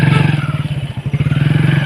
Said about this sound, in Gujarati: બાઈક ચાલુ કરી આલો